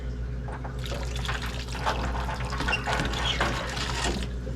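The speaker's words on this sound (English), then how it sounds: "Now remember, that is still hot water, so you want to be careful with it." Hot water pours and splashes steadily from a water heater's drain valve over a low constant hum, a continuous gurgling flow draining out.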